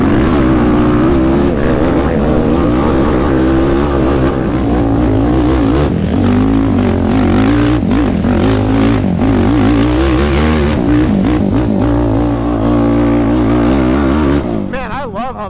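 A Yamaha YFZ450R ATV engine revs hard while riding off-road on hilly terrain, a loud continuous roar rising and falling in pitch with throttle changes, close to the microphone, fading at the end.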